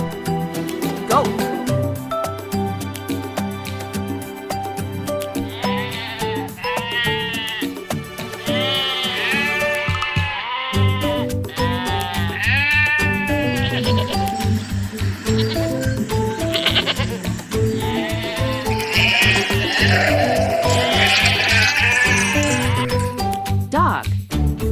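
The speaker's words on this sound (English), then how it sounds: "Goat." A goat bleats repeatedly in short, wavering cries over steady background music, its calls close and loud.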